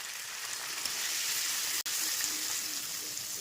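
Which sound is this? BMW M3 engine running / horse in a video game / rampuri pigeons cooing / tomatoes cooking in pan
tomatoes cooking in pan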